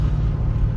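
A manual XW GT muscle car, freshly tuned carburetor and timing, pulls away with a steady deep low rumble from its engine, close and continuous throughout, with no talk over it.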